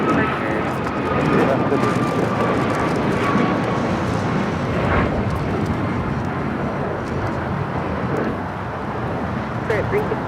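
A jet airliner roars on takeoff at Los Angeles airport, a broad sustained engine rumble and whine filling the air throughout, with faint radio chatter and voices beneath it.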